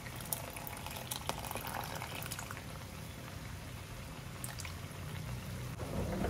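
Milk being poured into a pot of Hyderabad chicken biryani while cooking, a steady bubbling, liquid wash that stays even and close throughout with no voices.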